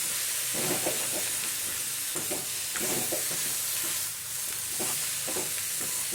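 A dry curry of potato and capsicum with tomato and amchur powder is stirred in a hot pan, spoon scrapes recurring in an irregular rhythm over a constant close sizzle.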